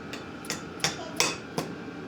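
Caps being tapped into the round holes of an ice shelter's poles: five sharp, separate knocks spaced roughly evenly, close by and fairly light, with no talk.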